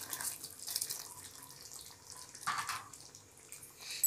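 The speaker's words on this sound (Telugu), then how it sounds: "ఇప్పుడు బాగా మరుగుతోంది వాటర్, బాగా గ్రేవీగా తయారైంది." Water boils in a cauliflower egg kurma curry gravy, a quiet continuous bubbling and hissing with soft pops and a few brief louder surges.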